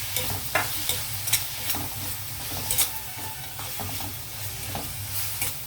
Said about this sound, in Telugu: ఇదిగోండి ఉల్లిపాయలు రొయ్యలు 2 నిమిషాలు అలా వేగాయి అన్నమాట, ఆయిల్లో మగ్గాయి.